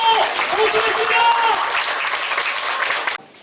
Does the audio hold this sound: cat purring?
no